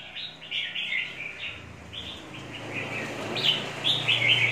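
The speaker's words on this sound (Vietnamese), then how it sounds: "Chim sẻ đuôi này, cực đẹp này." A caged sparrow with a fanned tail chirps close by in quick bright bursts that come in several short runs over a soft, hissy background.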